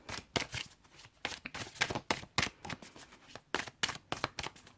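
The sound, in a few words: cards being shuffled for a card reading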